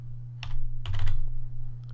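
Typing a command on a computer keyboard, a few close, crisp key clacks in small clusters over a steady low electrical hum.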